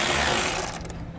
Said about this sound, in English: I'm going to take a 10mm socket and pull that out.